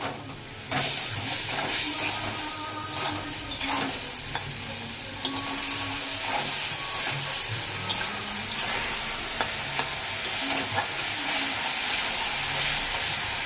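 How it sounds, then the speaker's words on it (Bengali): Spice paste sizzles and fries steadily in hot oil while being stirred and scraped, the hiss continuous and close with occasional clinks of the utensil, for a Bengali peas-lentil jackfruit dish. "এবার এই মশলাটা ভালো করে কষাবে"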